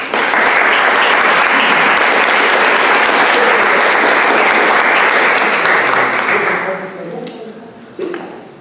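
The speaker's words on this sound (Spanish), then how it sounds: "le damos un aplauso de bienvenida" A lecture audience at a herpetology society talk gives sustained welcoming applause that holds steady for several seconds and then fades out, with a few stray claps at the end.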